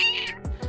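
A house cat meows twice in quick succession, close and fairly loud, each call short with a downward sweep, while a chimney is being cleaned.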